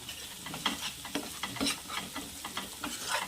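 Everest masala being stirred into a spicy cabbage and potato gravy in a pan: steady scraping and soft sizzling with rhythmic stirring strokes, close and fairly quiet, no voices.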